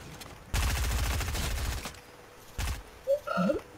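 Automatic gunfire from a bot in Fortnite, a sustained rapid burst followed by a shorter second burst, with a brief tonal game sound at the end and no talk.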